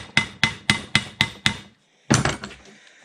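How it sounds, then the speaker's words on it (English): A hammer taps a hot nut welded onto the carburetor screw of a Stickney 7HP stationary hit-and-miss engine. Six evenly spaced sharp metallic taps sound close and loud, followed by a pause and a heavier clanking strike. "I'll just give it a couple of taps"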